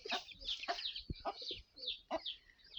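A Chu-Shamo mother hen gives soft, repeated clucks and calls to her chicks, close by, with faint chick peeps mixed in.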